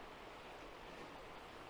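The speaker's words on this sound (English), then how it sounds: "I like the sound of the creek and all" Soft, steady rush of creek water flowing in the Blue Ridge Mountains in fall, a continuous faint broadband wash with no voices.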